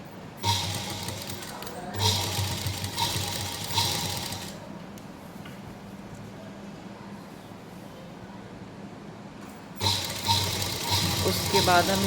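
A sewing machine runs a straight seam while a salwar is stitched, its fast mechanical whirring coming in bursts. Two short runs are followed by a long quieter pause, then the stitching starts again near the end.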